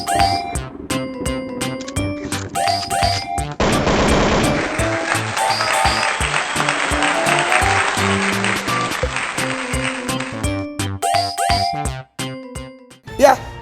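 Church congregation applauding and cheering for Jesus, a dense wash of clapping and voices lasting several seconds between stretches of musical tones and sparse speech.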